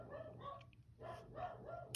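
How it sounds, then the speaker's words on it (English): A pet dog barking indoors, several short yaps in an uneven rhythm, somewhat distant and faint against a low steady hum. "I'm sorry, my dog's barking."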